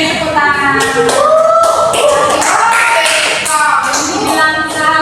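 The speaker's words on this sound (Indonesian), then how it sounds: "Oke, beri tepuk tangan." Elementary-school pupils in a classroom clap their hands together in quick, rhythmic patterns, with children's voices chanting along over the claps.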